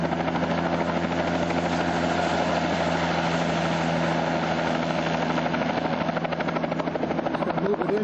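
Fire crew helicopter hovering and landing on a forested island, a steady loud rotor thump and turbine whine held throughout, heard from a moderate distance with no pause.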